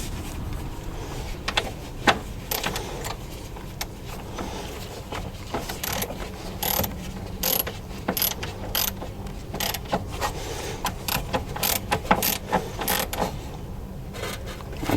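Small mechanical clicks and creaks repeat irregularly over a low steady background, a plastic part on an Iveco Daily IV van being turned and ratcheted tight by hand during servicing, close up.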